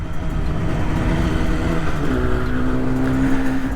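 A 1973 Yamaha RD 250 two-stroke motorcycle engine runs close and loud, a steady, buzzy drone that holds even throughout, with a clear higher tone joining partway through. No one speaks.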